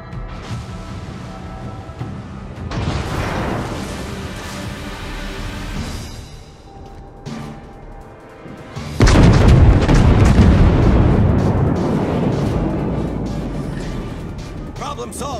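Heavy explosions boom as an enemy cruiser is destroyed in a naval warship video game, a loud rumbling burst surging around nine seconds over continuous battle noise, with voices speaking throughout.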